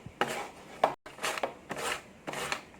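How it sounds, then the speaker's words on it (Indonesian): Vegetables are rubbed against a kitchen grater during snack preparation, giving four close, rasping bursts of scraping strokes separated by short pauses, with no talking. "Nah, diparut seperti ini lebih cepat."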